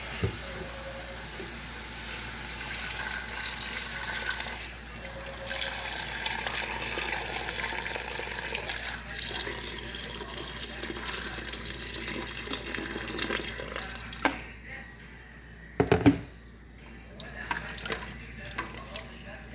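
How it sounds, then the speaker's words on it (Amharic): Hot water splashes and gurgles into a pot of chicken for several seconds, continuous and fairly close, then stops, followed by a few clanks of cookware. "ሙቅ ውሃዬን አደርግና እዘጋለሁ ማለት ነው።"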